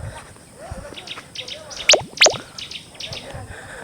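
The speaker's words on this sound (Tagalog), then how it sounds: "mga huni ng iba't ibang klaseng hayop ang marinig mo" Assorted animal calls ring out around a tented safari camp in Amboseli, Kenya: two sharp, loud high chirps stand out near the middle, with fainter repeated chirps and insect-like trills scattered before and after over low background noise.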